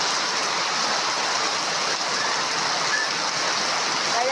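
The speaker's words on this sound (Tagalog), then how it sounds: "Ang lakas ng ulan." Heavy rain pours steadily in a dense, constant hiss with no pauses, loud and close, with no voices rising above the downpour.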